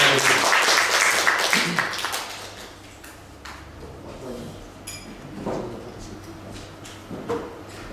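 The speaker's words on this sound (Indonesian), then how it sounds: "Beri tepuk tangan yang beri Tuhan." Church congregation applause during a service, a burst of clapping in a reverberant hall that tapers off within a few seconds, followed by scattered knocks, shuffles and room noise.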